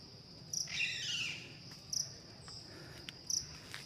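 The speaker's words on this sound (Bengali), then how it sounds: "ঝিঝি পোকার ডাক" Crickets chirp in the forest on Parasnath hill in a few separate high, buzzing bursts over a quiet, steady insect hum, with no talk.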